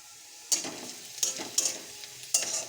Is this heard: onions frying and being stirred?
yes